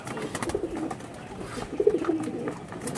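Several pigeons coo softly at a moderate distance, with a few low throaty calls over a quiet background. No voices are heard.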